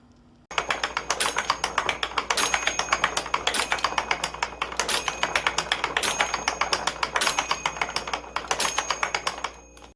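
Hand-cranked wooden planetary gear model with a ratcheting pawl producing rapid, evenly spaced dry clicks in a steady rhythm, close and crisp, with slightly louder accents recurring about once a second.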